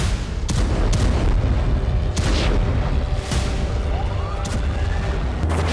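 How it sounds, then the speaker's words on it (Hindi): Several heavy booms from a drone strike in Kazan, Tatarstan, roll out across the city at irregular intervals, loud and echoing, with a rising siren-like tone sweeping through in between. "फिर तातारस्तान के कजान में धमाका हुआ"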